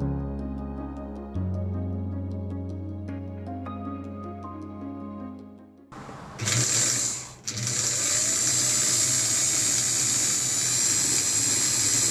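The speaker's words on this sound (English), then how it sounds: "For the wool, I simply pinned and basted darts together, then sewing by machine." A sewing machine stitches darts in wool for an 1890s walking suit jacket, running in a loud, steady close whir after a stretch of quiet music, briefly pausing then resuming.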